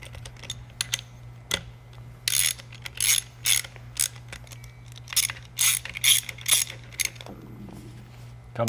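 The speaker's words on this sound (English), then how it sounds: "fasten that Allen head screw all the way down." Allen head screws being fastened by hand on a heavy-duty ground fueling nozzle, an Eaton Carter 64250, giving a run of short metallic ratcheting clicks and tool bursts in close, irregular clusters over a low steady hum, with no talking.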